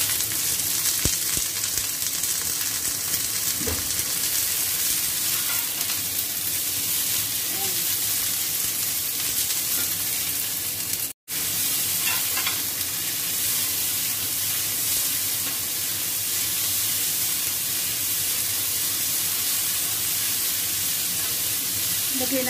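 Garlic and string beans sizzle loudly as they are stir-fried in a pan for a pork belly dish, with a constant close frying hiss, occasional stirring scrapes and a brief cut in the middle.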